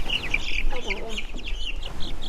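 Chickens cluck softly in a backyard flock, repeated short calls overlapping at close range with steady outdoor background noise.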